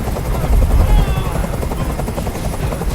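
A helicopter hovers close overhead during a hostage scene in the video game Detroit Become Human, with a loud, constant rotor thump and turbine whine under raised voices.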